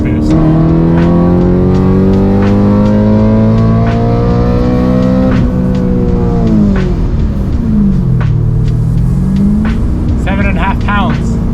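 A BMW E92 M3 engine pulls hard through a gear. The loud, steady engine drone rises in pitch, drops at a shift and then climbs again, all captured from inside the car with some faint background chatter.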